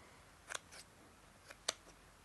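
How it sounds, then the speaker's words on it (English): Scissors make a few quiet, crisp snips while trimming long yarn ends from a pom-pom, in two pairs of short cuts close by against a near-silent background. "if you need to trim off any long pieces,"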